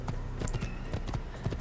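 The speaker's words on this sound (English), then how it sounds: "Take the white horse again." A white horse's hooves clip-clop in a steady trotting rhythm in the video game Assassin's Creed, close and continuous over a background of in-game ambience.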